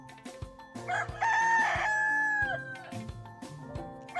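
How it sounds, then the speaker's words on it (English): A rooster gives a loud, clear cock-a-doodle-doo crow, a single long call rising and holding before trailing off, heard close up over faint background sounds. ""Cock-a-doodle-doo," crowed the rooster."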